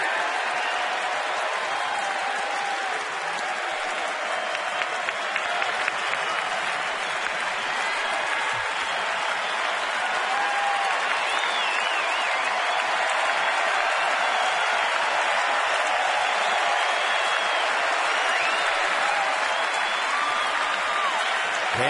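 A baseball stadium crowd of nearly 33,000 keeps up sustained applause and cheering for the whole stretch, a dense, even roar with some scattered whistles and shouts, heard from a broadcast vantage.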